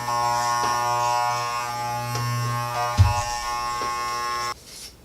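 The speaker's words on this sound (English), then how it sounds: "I am still clipping hairs" Corded electric clippers cut hair close by with a steady, loud buzz that briefly changes pitch under load, then cuts off near the end.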